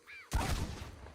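A single shotgun blast in a video game hunt for a fox, a sudden sharp boom followed by a decaying rumble, heard alone after a brief quiet tone.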